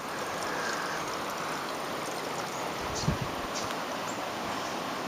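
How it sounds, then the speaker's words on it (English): Water pours steadily at Queen Mary Falls, a broad continuous rushing hiss heard from some distance, with a brief soft knock partway through and no talking. "Is the camera picking up the sound of the water?"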